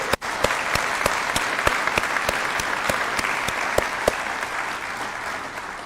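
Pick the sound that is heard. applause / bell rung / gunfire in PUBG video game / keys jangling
applause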